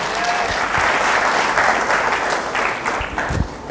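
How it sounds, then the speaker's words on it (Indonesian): Enthusiastic applause from a church congregation at an anniversary service, a steady dense clapping that fills the room at close range and carries on throughout with no talk over it. "Tepuk tangan yang meriah."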